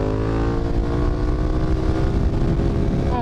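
A reprogrammed KTM 1290 Super Duke GT engine roars close and loud, a continuous harmonic growl with rising pitch as it pulls hard, no voices.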